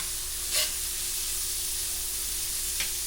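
Shrimp cooking in a pan give off a steady, soft, even sizzle with two brief louder hisses.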